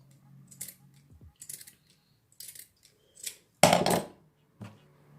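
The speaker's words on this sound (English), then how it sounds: "So we're going to cut it to the size we want." Scissors snip a fascinator's sequin trim to size in a quiet room, making several short, crisp, separate cuts and one louder, longer slicing snip near the end.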